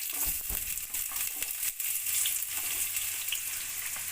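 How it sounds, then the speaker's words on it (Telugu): Onions frying in hot oil at a restaurant-style street food stall, a steady bright sizzle with crackling spatter running throughout, loud and close, no voices. "ఆయిల్ వేడెక్కిన తర్వాత కొంచెం ఆనియన్స్,"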